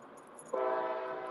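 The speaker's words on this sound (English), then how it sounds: "I apologize for the train." A train horn sounds suddenly while a train passes through a village, a steady sustained blast that comes in loud and holds to the end.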